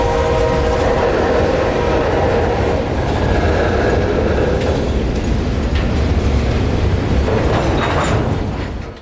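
A CSX freight train rolls past at Winston, Florida, loud and close throughout, with a steady roar of wagons clattering over the rails. A horn sounds near the start.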